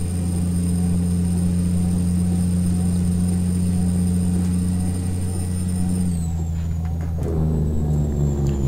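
Diesel engine of a K100 truck in Euro Truck Simulator 2, a steady low drone with strong harmonic hum that shifts pitch near the end as the revs change, with speech likely present over it.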